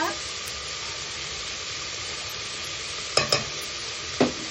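Vegetables seasoned with salt and pepper being stirred in a pan for monggo, a steady sizzle with a few sharp spatula scrapes and clinks near the end, no talking.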